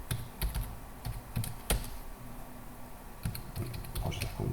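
Fingers type a password on a computer keyboard, a close burst of quick, irregular key clicks and clacks with a few louder taps, steady throughout and with no talking.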